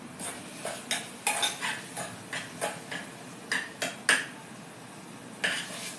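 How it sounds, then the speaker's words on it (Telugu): Mutton keema goes into fried masala in a cooking pan and is stirred, giving irregular scraping and clinking strokes of a utensil against the pan, close and fairly loud, with no talking. "ఇప్పుడు కీమా వేద్దాము."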